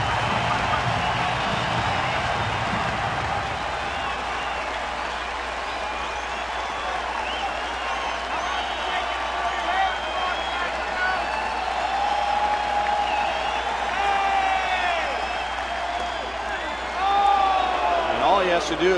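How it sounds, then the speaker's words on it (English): Sellout stadium crowd at a Detroit at Kansas City baseball game standing and cheering, a steady, dense roar with clapping that holds throughout and swells near the end, heard alone without talk. "it's really great when it's your crowd that's on their feet cheering"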